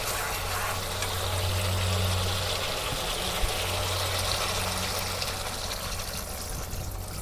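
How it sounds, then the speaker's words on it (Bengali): Water pours steadily into a pan of sautéed pointed gourd and potato curry in a home kitchen, a continuous rushing trickle over a low, constant hum with no talking. "এখন আমি জলের পানি দিয়ে দেব।"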